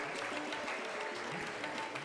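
An audience in an auditorium claps for the runner-up team at an award ceremony, a brief, fairly quiet patter of many hands under a low murmur.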